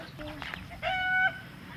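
A young chick gives a short, high clucking call over background farmyard noise, close by and moderately loud.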